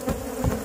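Gentle honeybees buzzing around an opened hive with propolis visible at the top, a steady close drone that fills the whole moment with no voices.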